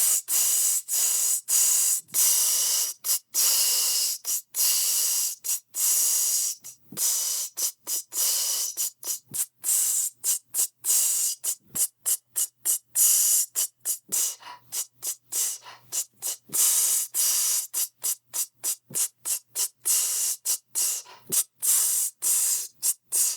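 A vocalist imitates a hi-hat with the mouth, producing long sequences of sharp, breathy 'tss' hisses in a steady, mostly rapid rhythm, close and loud, with brief silent gaps between bursts.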